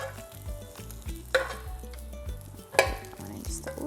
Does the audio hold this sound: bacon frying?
yes